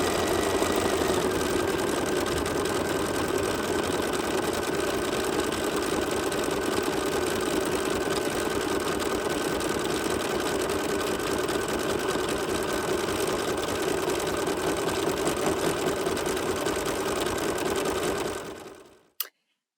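An embroidery machine runs a cover stitch over a small appliqué patch as part of a sampler, a steady, close mechanical whir and rapid needle chatter continuing unbroken for nearly twenty seconds before stopping abruptly.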